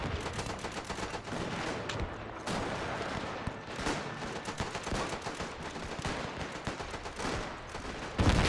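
Dense rifle and machine-gun fire in a World War I battle game, continuous volleys of close and distant shots rattling without pause.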